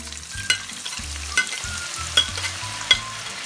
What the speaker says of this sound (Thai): สำหรับรอบสองที่จะมาทอดหอม แม่ก็คือเร่งไฟอีกเนาะเพื่อน ๆ แล้วก็ใส่หัวหอมลงไปเลยค่ะ